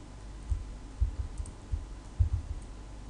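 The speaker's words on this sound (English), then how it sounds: "You need to type each character at a time" Someone types a company name on a computer keyboard, one character at a time, in a quiet room: a sparse run of soft, faint key clicks spaced irregularly over a few seconds.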